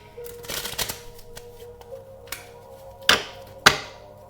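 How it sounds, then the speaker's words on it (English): Tarot cards being shuffled, a quick riffling flurry near the start, then two sharp snaps of cards settling later, close and quiet with no talking. "So I'm going to pull a few cards."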